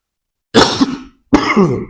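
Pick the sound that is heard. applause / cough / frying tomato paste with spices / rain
cough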